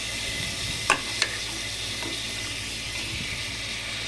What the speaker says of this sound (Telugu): ఇప్పుడు ఈ స్టేజ్లో మనం మటన్ వేసుకోవాలండి